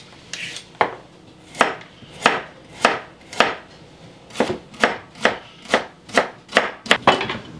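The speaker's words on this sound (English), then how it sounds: "The carrot gets julienne or cut into matchsticks," A knife chops a carrot into julienne matchsticks on a cutting board for egg rolls. About fourteen crisp, close knocks come at an uneven pace and quicken toward the end, with no talk.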